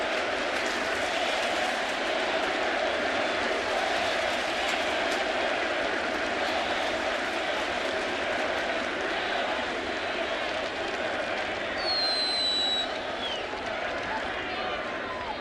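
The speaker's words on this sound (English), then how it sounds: "And the crowd serenading him." Yankee Stadium crowd serenades Derek Jeter at his last home game against Baltimore: a dense, continuous roar of cheering and chanting fills all fifteen seconds at steady loudness, with a brief whistle-like tone near the end.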